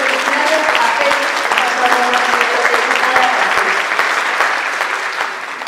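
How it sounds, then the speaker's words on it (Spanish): Loud, sustained applause from a gathered crowd at a solidarity community event welcomes a speaker named Félix, with voices murmuring faintly beneath the steady clapping. "un fuerte aplauso, no solo por la lucha, a la comunidad solidaria, a Félix"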